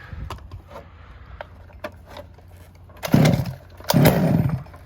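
Small gas engine of a Losi DBXL 2.0 RC car sputters to life after choking, with faint pull-start clicks followed by two loud bursts of engine revving close by.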